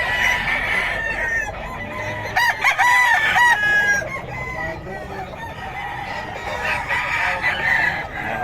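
A Sweater breed gamefowl rooster crows loudly and close by, one full cock-a-doodle-doo in the middle, with other fowl clucking and calling around it.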